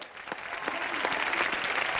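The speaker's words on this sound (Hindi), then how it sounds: "मैं चाहता हूं खड़े हो गए अगर तालियां बजा जाए सुहेल भाई के लिए।" A burst of clapping from a small TV-show studio audience, building quickly and holding steady with no talk over it.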